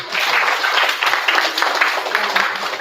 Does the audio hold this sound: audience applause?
yes